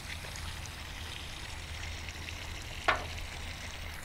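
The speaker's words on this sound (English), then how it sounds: "you can hear the air actually hissing through the air relief valve here" Air and water hiss steadily through the air relief valve of a pool cartridge filter, a soft, continuous close-up hiss with one brief louder spurt, and no talking.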